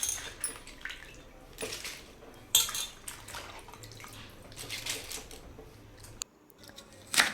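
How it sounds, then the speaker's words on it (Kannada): Cauliflower being cut into small florets in a home kitchen, giving irregular soft knife taps and clatters against a board and utensils, moderately close with no talking. "ಹೂಕೋಸು ಅಷ್ಟೇ ನೀಟಾಗಿ ಚಿಕ್ಕ ಚಿಕ್ಕದಾಗಿ ಕಟ್ ಮಾಡ್ಕೊತಾ ಇದ್ದೀನಿ"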